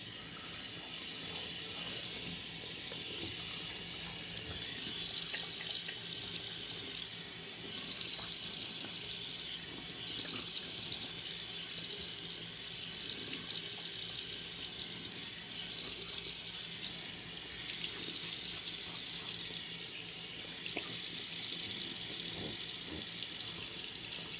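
A water tap runs steadily at a bathroom sink, wetting a shaving brush for a vintage wet shave; the stream is a continuous, even hiss throughout with no pauses.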